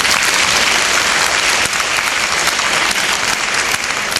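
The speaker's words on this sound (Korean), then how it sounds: "격려와 응원의 박수 부탁드립니다." Loud, dense audience applause after a presentation about a smartphone game that protects kangaroos from roadkill, a steady wash of many hands clapping close by.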